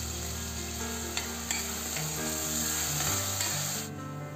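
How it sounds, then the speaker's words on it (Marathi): Two finely chopped onions sauté in hot oil for chicken masala with a dense, steady sizzle and intermittent spatula scrapes, close by and with no talking, ending in a sudden drop as the heat eases. "आता यामध्ये 2 बारीक कट केलेले कांदे घालून घेऊ आणि हे छान 2-3 मिनिट परतून घेऊया."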